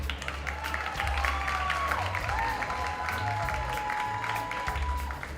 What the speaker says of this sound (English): Man, you can clap them, man